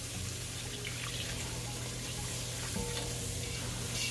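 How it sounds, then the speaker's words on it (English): Liquid of water and milk being poured and stirred into a cooking roux in a hot pan, giving a steady close sizzle with soft stirring and splashing, no talking. "We're going to slowly start integrating this water and milk mixture."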